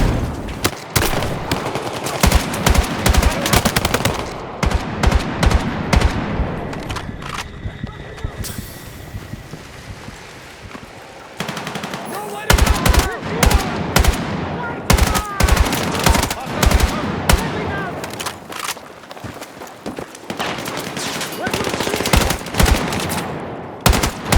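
Bursts of machine gun fire crackle in the Battlefield 6 video game, rapid volleys in long rattling strings broken by short pauses, loud and close over wind and battle noise.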